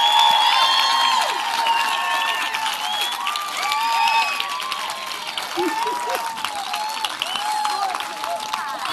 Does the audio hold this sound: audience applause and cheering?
yes